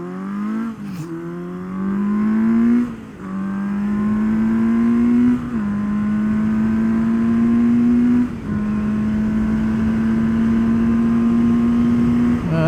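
A 1977 Kawasaki KZ650C motorcycle engine pulls hard through several gears at a drag strip, each steady rising whine broken by a short dip at the shift, loud and continuous throughout.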